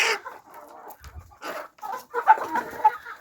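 A naked neck hen clucks in short, close bursts, with a few louder squawky notes and brief pauses between them.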